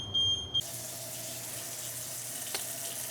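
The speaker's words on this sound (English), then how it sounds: "we're in the kitchen and I got water running" Tap water runs in a kitchen as a faint, steady hiss, preceded by two short, loud electronic beeps at the start and a brief click partway through.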